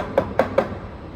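Three evenly spaced knocks on the plastic top of the metal rear sports bar of a 2025 GWM Cannon XSR ute, close and slightly hollow, with quiet pauses between them.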